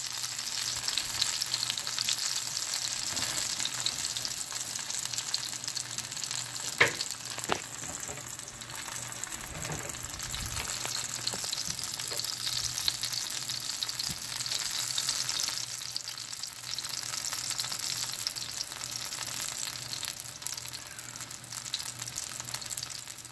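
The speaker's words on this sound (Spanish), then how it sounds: "Que se doren bien dorados." Plantain empanadas stuffed with spinach frying in hot oil, a steady dense sizzle throughout with a few faint clinks of a utensil, close and continuous with no talking.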